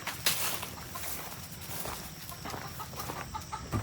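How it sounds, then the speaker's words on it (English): Chickens cluck softly in the distance on a humid morning walk, a faint scattered clucking under outdoor ambience and light footsteps. "keeping some chickens up there"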